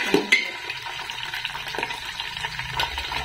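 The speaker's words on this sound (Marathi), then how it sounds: "मटार घातल्यानंतर आपण हे 1 वाटी बीन्स घालणार आहे" Finely chopped green beans are tipped into a pan of sizzling vegetables, peas among them, for bisi bele bhat, with a soft clatter as they land and then a steady close frying sizzle while the mix is stirred.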